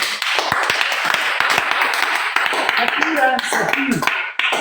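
A church congregation claps and applauds in steady rhythmic beats, loud and close, while voices talk and call out over the claps.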